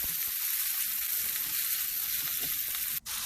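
Meatballs and tomatoes sizzle steadily in a pan under a splatter screen, a constant close hiss of frying with a brief faint clink near the end and no voices.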